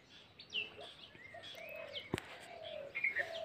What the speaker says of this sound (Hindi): छोटी छोटी चिड़ियाएं हैं पेड़ों में, गुनगुना रही हैं।